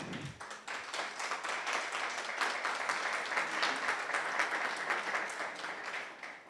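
Audience applause at a talk on technology, steady dense clapping from a crowd that swells quickly and holds for several seconds with no voices over it.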